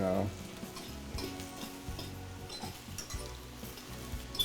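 Liver frying in a pan gives a steady, close sizzle, with faint scrapes and clinks of stirring scattered through it and no voices.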